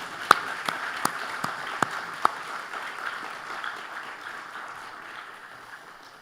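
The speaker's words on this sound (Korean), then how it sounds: "우리 시온 찬양대를 위해서 더 크게 격려의 박수 한번 치십시다" Congregation applauding a church choir at an elders' dedication service, a soft diffuse patter of clapping with a few sharper claps near the start, gradually fading.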